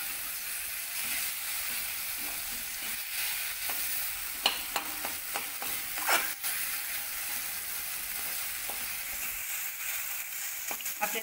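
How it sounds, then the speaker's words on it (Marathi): Milk bhurji made from raw-milk kharvas stirred and fried in hot oil: a steady sizzle with a bright hissing wash, broken by scattered spoon scrapes against the pan, close and alone. "आपल्याला तेलामध्ये छान परतून घ्यायचं आहे."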